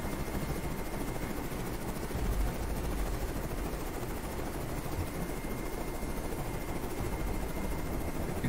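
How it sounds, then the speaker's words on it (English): A plane flies over in the Carrier Command 2 video game, heard as a steady droning engine roar that holds at one level throughout, with no voices. "I can see a plane flying over."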